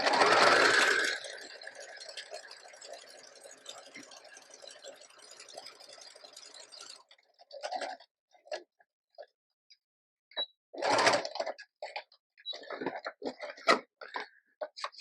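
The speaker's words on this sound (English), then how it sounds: "So I'm going to go ahead and sew this one." A sewing machine stitches through paper journal pages in one steady run of several seconds after a brief louder start, followed by scattered short clicks and handling noises.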